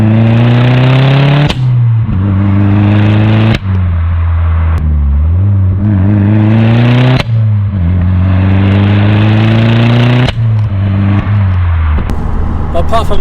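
An Audi S3 engine revs hard under boost with a diverter valve fault suspected, the strong harmonic pitch rising and dropping in repeated pulls, loud and close from inside the car, with people talking over it.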